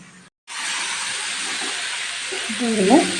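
Spinach frying in ghee in a pan, a steady broadband sizzle that starts after a brief gap and runs continuously, with a faint voice surfacing near the end.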